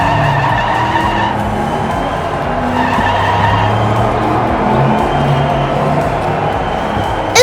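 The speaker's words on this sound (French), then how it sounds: "drift de la Corvette qui fait prendre les rails de Yado" Diecast toy race cars on a track, among them a Corvette that drifts, give a continuous loud rolling whir with shifting tones and a skidding, squealing edge, close and unbroken, with no talk.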